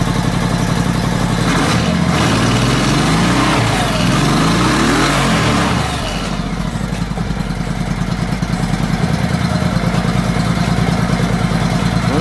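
A car engine runs loud and close, a steady rough drone that surges slightly and then settles back to a constant idle, without speech.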